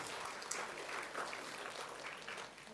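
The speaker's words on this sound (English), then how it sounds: "Atomy probiotics, a round of applause." An audience applauds during a product presentation for Atomy probiotics, giving a soft, steady wash of clapping that stays faint and distant throughout.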